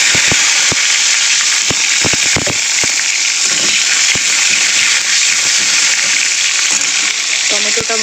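Slit tomatoes hit hot oil in a wok used earlier for frying prawns, producing a loud, dense, continuous sizzle with sharp crackling spits and pops scattered across the whole stretch, close and steady.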